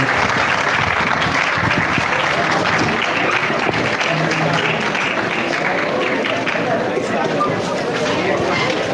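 Loud, continuous crowd applause welcoming speakers onto the stage at a progressive political forum with Jean-Luc Mélenchon, with cheers and voices mixed into the clapping.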